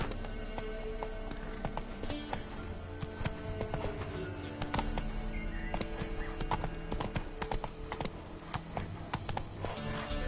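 Hoofbeats of Roach, a horse in a PS4 video game, galloping at a steady, rapid clip-clop, with a neigh and faint game sounds behind.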